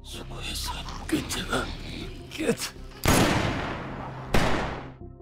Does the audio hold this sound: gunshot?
yes